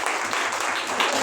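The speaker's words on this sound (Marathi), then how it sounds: "आपण सगळ्यांनी उत्साहाने पहिल्यांदा जोरात टाळ्या वाजवून स्वागत करा" An audience breaks into continuous, dense clapping to welcome the start of a celebration event in a hall, loud and steady.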